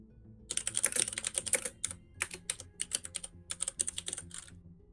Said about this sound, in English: Emerson joining the keyboard ASMR here